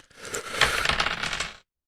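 Dice rolled across a table during a tabletop role-playing game, a close clattering tumble of about a second and a half with sharp scattered clicks that settle and stop.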